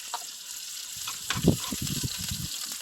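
Onions and garlic frying in a pan, a soft sizzle under scattered clicks and a brief burst of stirring scrapes in the middle, fairly quiet and close.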